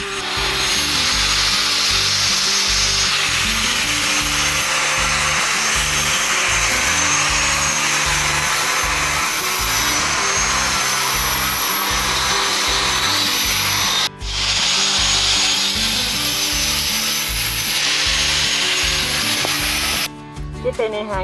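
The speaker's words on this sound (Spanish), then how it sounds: "Aquí está el Gordis cortando la maderita para la mesita" A power tool cuts wood for a small travel table, a loud continuous whining and grinding roar that runs nearly unbroken, with a brief dropout midway and another near the end.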